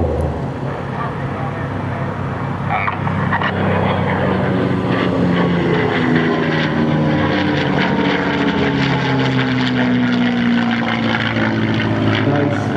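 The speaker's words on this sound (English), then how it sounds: "this time he's coming back from the left to show you the roll rate of the P-51 and the aileron roll" A P-51D Mustang propeller aircraft flies an aileron roll at an air show, its engine droning loud and steady with a sweeping pitch change as it passes, while an announcer talks over it.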